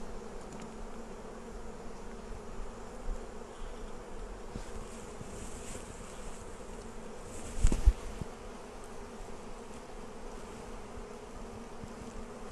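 Honey bees buzzing around an open beehive with flow frames, a steady low drone of many insects close by, with a brief louder knock partway through.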